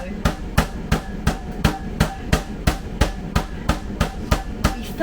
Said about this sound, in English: I don't want to be really hammering it and tearing at the chicken.